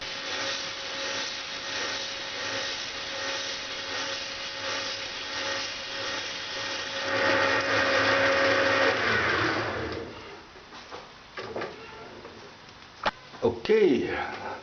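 Compressed air engine part spinning on a metal lathe while sandpaper is pressed to it: a steady motor whir that swells louder with the sanding midway, then winds down into a few clunks, with a brief voice near the end.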